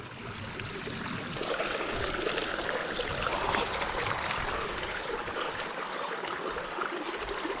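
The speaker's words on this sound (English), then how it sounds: "we were not expecting this beautiful spring creek here on the top of this mountain" A spring creek flows over rocks on a mountain top in the Guadalupe Mountains of Texas, a steady, close babble and trickle of water that continues without pause.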